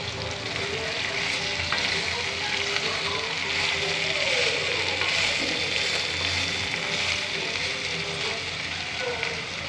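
Raw plantain pieces fry in a hot pan with a continuous dense crackling sizzle, steady and close throughout, with no clear speech over it.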